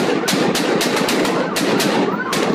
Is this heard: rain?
no